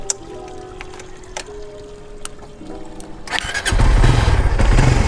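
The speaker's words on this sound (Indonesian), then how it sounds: "Langsung aja kita nyalain ya motornya." A manual-clutch motorcycle engine starts up partway through, its quiet background suddenly giving way to a loud, steady running rumble close by for the last second and a half.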